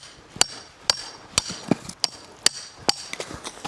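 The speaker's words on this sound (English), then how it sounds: "The hammer plus hatchet combo is very good" Hammer and hatchet chop ice in a winter camp on a frozen moraine lake, a series of about eight sharp, loud impacts at an uneven rhythm with small cracking clicks between them and no talking.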